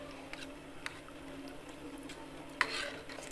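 A spoon stirs thin Maharashtrian amti curry in a pot, a soft continuous swishing with faint scraping and a low simmer underneath, quiet and close, with one sharper knock near the end.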